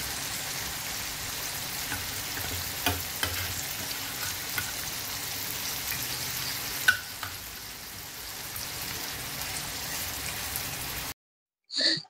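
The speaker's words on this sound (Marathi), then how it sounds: "ते थोडे फ्राय करून देत आहे." Mixed fish frying in a pan, a steady close sizzle with occasional pops and crackles throughout, alone without talk, cutting off briefly near the end.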